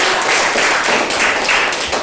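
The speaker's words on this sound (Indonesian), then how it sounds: "Tepuk tangan buat kelompok 2." Classroom applause for a student presentation group at a junior high school, a steady patter of many hands clapping together for about two seconds with no talking.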